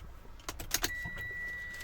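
Car keys jangle in several quick metallic bursts at close range, two keys for a used car, followed by a thin steady electronic tone.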